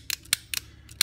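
Short stroke trigger kit misfiring because its pre-travel screw is set wrong, giving a quick series of sharp, faint mechanical clicks and snaps at uneven intervals, close and with no talking.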